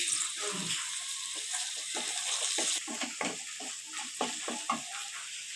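Ginger garlic paste with curry leaves and mint sizzles steadily in a pan for a mango chicken curry, with a continuous frying hiss under repeated stirring scrapes and soft clinks, close and moderately loud, no talking.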